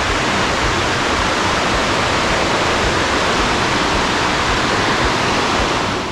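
The Mooi River Falls in South Africa, heard from right at the edge, pours with a loud, unbroken roar of falling water that holds steady throughout with no voices.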